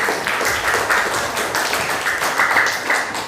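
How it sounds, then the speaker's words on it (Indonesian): Classroom students applaud group one after their presentation, a dense steady clapping lasting the whole stretch at moderate loudness. "kalau tidak ada, tepuk tangan dulu"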